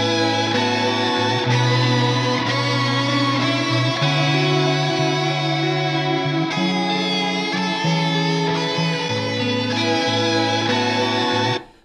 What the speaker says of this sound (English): lo-fi, retro synth-like tone with your guitar